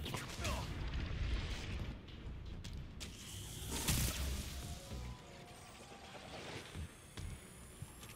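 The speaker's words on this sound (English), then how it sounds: "Exploding booby trap." An exploding booby trap in the shooter Destiny 2 detonates with a crashing boom amid mechanical clatter and other game effects, a sharp burst near four seconds standing out over continuous busy noise, with a voice talking underneath.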